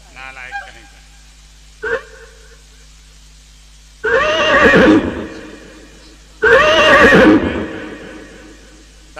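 A horse gives two long, loud neighs in succession, each lasting over a second and close by, after a few brief sounds and a voice near the start.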